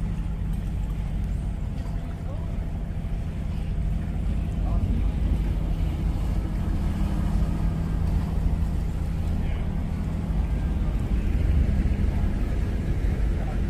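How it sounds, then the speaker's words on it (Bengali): A boat arriving on the water in London, its low engine rumble blending with wind buffeting the microphone and lapping waves, steady and moderately loud throughout. "এই যে বোট চলে এসেছে"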